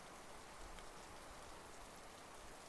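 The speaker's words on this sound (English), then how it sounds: "And now there's rain." Steady, soft rain falls in the video game National Park Girls, an even wash of drops without breaks or other sounds.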